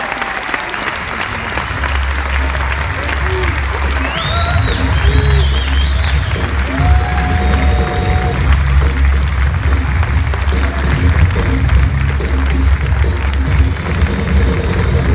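A large convention audience applauds loudly and continuously, a dense sustained wash of clapping with a few scattered cheers.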